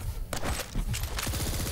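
Rapid bursts of gunfire crackle over a busy, dense backdrop in the video game Quake Champions, with repeated shots in quick succession across the whole stretch.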